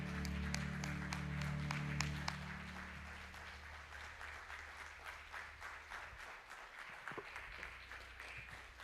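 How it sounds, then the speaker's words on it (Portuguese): Congregation applause at a family worship service, many hands clapping steadily over a fading sustained chord, the clapping continuing on its own with a few louder claps. "Vamos aplaudir Jesus porque Ele é digno."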